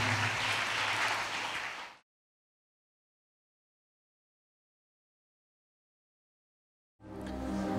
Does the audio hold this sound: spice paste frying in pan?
no